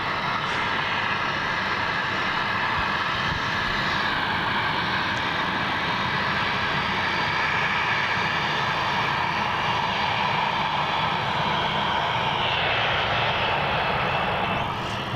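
An airliner taxis at Melbourne Airport after a reverse 180 from taxiway Juliet onto Kilo, its jet engines giving a steady, loud broadband roar and whine that holds throughout without pause.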